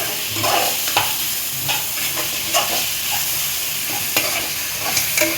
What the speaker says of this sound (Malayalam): ഇത് എൻ്റെ രീതിയിലുള്ള ചിക്കൻ കറിയാണ് കേട്ടോ ഇതൊന്ന് ഫ്രൈ ആവട്ടെ